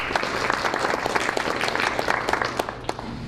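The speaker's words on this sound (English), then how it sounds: "let's give Greg a round of applause" An audience at a school board meeting claps steadily, a dense, continuous round of applause filling the room at moderate loudness with no voices over it.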